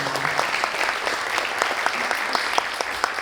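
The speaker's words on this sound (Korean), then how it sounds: "박수 한번 부탁드리겠습니다" Conference audience applauding after a talk on AI and design strategy: dense, steady clapping from a crowd, fairly loud and even, with scattered sharper claps near the front.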